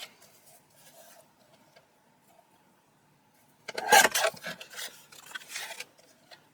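Card stock being trimmed down to 5.5 inches, a short rasping, scraping cut heard close up in a quiet room, lasting about two seconds after a near-silent lead-in.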